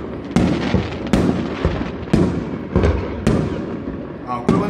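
A 180-second spring holiday fireworks show at a dog training school in Lukang, Taiwan, with loud shells bursting about once a second, each sharp boom trailing into crackle, while a voice talks now and then in the background.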